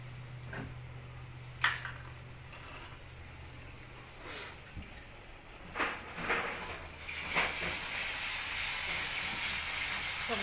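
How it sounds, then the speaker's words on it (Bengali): Green chilli, ginger and garlic pastes frying together in a pan for a crab curry, a hissing sizzle with scattered clicks and scrapes that swells louder and more continuous toward the end. "কাঁচা লঙ্কা, আদা বাটা, রসুন বাটা এগুলোকে একসঙ্গে ভেজে নেব"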